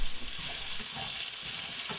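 Bay leaves, bhaj phoron, red chili and potatoes fry in hot oil left from fish frying, giving a close, steady hissing sizzle with faint bubbling and no voices.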